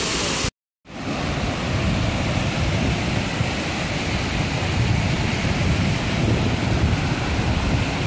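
Steady broadband roar of the waterfall at Falls Park in downtown Greenville, South Carolina, loud and continuous after a brief dropout at the start, with no voices.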